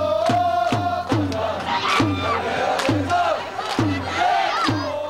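Daejeon Citizen football supporters chant in the stands during a match, a loud, dense crowd chorus with rhythmic shouts and repeated drum-like beats roughly once a second, steady and close.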